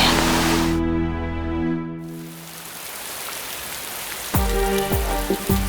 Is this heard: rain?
yes